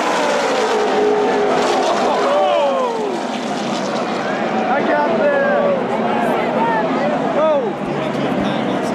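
NASCAR race car sliding completely sideways on an oval track, engine roar blending with tire squeal over steady crowd and track noise, while a commentator talks over it.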